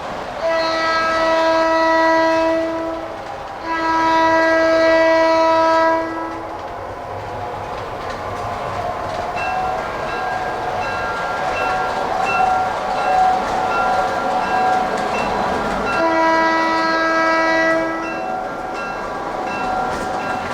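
O scale and larger standard gauge model trains run on a toy train museum layout, with a steady rumble throughout and a chordal horn sounding in three long blasts, two near the start and one later.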